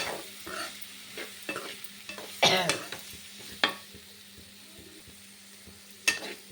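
Chili powder frying in a pan over a lowered stove flame, giving a faint, soft sizzle broken by scattered scraping stirs and a few sharper clinks, close by with no talking.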